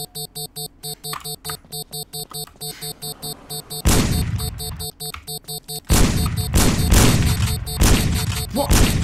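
Gunfire in the video game Sneak Thief, rounds punching through walls: loud bursts of shots and booms over a pulsing game soundtrack, growing denser and heavier in the second half.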